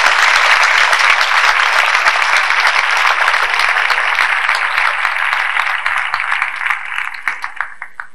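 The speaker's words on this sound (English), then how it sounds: "well-deserved round of applause." Audience applause at a 1989 high school graduation ceremony, a loud, full burst of clapping from a large crowd that gradually fades until only a few scattered claps remain at the end.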